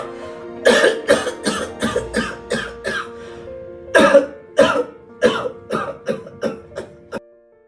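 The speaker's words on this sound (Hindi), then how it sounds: "तुम खांस क्यों रहे हो?" A person coughs repeatedly in short, rough bursts, about a dozen harsh coughs in an uneven rhythm with a brief pause midway, close and fairly loud with no other sound.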